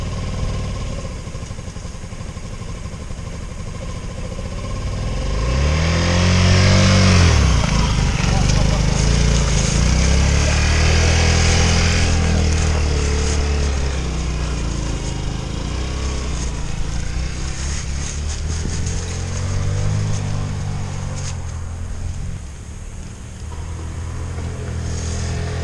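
A small scooter engine idles and revs, rising and falling in several surges as it gets going and rides off, with people talking over it throughout.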